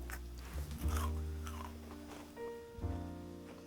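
A chocolate walnut meringue cookie is snapped open by hand, giving a faint, close crisp crackle and crunch over a few seconds.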